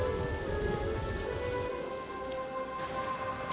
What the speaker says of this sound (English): At least the rain quit a little bit.